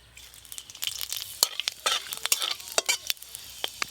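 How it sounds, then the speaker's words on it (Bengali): Panch phoron whole spices crackling in hot oil in a wok while cooking a sour fish roe dish, sharp irregular pops and sizzles with spoon stirring scrapes, close and fairly loud, no talk. "আমরা দিয়ে মাছের ডিমের টকের জন্য কড়াই 5 ফোড়ন দিয়ে দেবো।"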